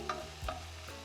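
Onions cook down in a pan for pasta all'amatriciana, a soft, steady sizzle with a few faint stirring scrapes, quiet and close.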